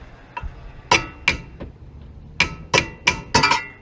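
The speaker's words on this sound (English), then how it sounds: "I've been working at it with a hammer, and you can just kind of pound" Sharp metallic hammer blows strike a stuck brake part on a 1998 Honda Civic during a brake pad change, about eight close, loud clanging hits in an uneven rhythm, with no talking.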